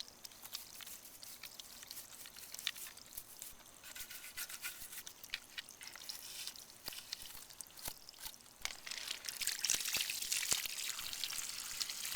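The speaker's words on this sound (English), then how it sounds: "scrub it all down, make sure we get all that excess off." A toothbrush scrubs a wet African skull during whitening, giving a steady, close, wet bristly rasp that grows louder and busier toward the end, with no talking.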